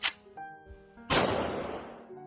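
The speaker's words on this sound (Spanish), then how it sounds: "dio la orden de dispararle en la pierna" A single loud gunshot sound effect, fired at a man's leg in a zombie apocalypse story, bursts out and decays, following a brief faint earlier report.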